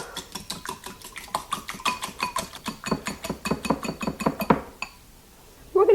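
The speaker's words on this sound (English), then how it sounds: "I'm just going to whisk this up." Eggs being whisked with salt, pepper and cheese, a fast, steady run of close metallic clicks and taps of a whisk against a bowl that stops abruptly, followed by a brief louder rustle.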